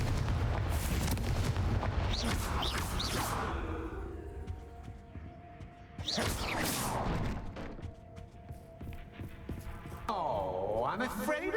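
A Confringo fire spell in Hogwarts Legacy bursts in heavy, rumbling explosions with whooshing fiery blasts, loud and close, repeated in waves across the scene, with game voices speaking between the impacts.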